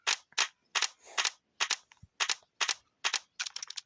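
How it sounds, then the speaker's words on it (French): Rifle fire in the Roblox game 99 Nights in the Forest: a rapid series of sharp, clipped game gunshots, about a dozen evenly spaced cracks closing with a quicker burst, loud and close with no talking. "Avec un fusil, vous le tuez en 2 balles, même une."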